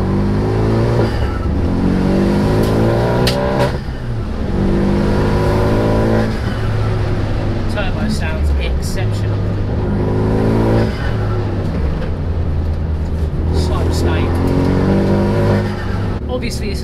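A 405 bhp Renault Megane Mark III accelerates hard, its engine climbing through repeated revving sweeps with brief breaks at gear changes, loud and close from inside the car throughout.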